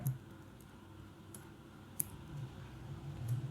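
Soft, sparse clicks from a computer keyboard and mouse during AutoCAD drafting tap along faintly against a low, steady room hum.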